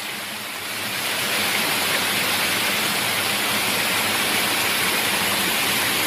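A small channel of water rushes hard after heavy rain, a dense, constant roaring wash that swells in the first second and then holds steady and loud, close by, with no voices.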